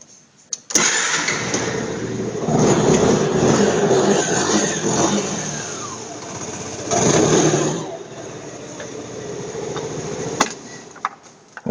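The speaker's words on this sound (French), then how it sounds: "le scooter tourne normalement" Yamaha Xmax scooter engine starts and runs, with a sharp start, surges of revving and steady idling close by, and a few clicks near the end.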